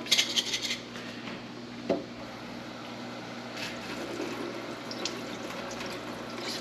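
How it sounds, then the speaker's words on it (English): Water runs and splashes as sprouts are rinsed in a jar covered with cheesecloth, a steady trickling wash with a few louder splashes early on, heard alone without talk. "and we'll rinse it one more time."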